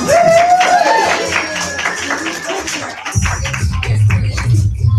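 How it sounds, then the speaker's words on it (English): Audience at a unit meeting clapping for a prize winner receiving a bracelet, a dense patter of handclaps that swells after a few seconds, with voices talking over it. "give her a round of applause"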